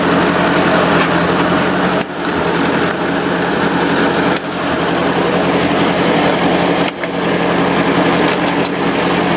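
A 1954 Ford Jubilee NAA tractor engine runs steadily in gear, a loud, close, even mechanical drone with a few brief dips in power and no speech.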